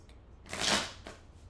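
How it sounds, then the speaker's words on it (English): Tarot cards riffled in a single brief shuffle, a soft papery burst that swells and fades over about a second, followed by a fainter flick, close and quiet with no talking. "I'm shuffling these again."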